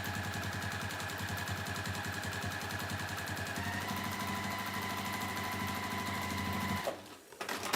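A sewing machine top stitches down the side of a denim tote bag in one continuous run, a rapid even rattle of the needle that holds for about seven seconds before stopping abruptly.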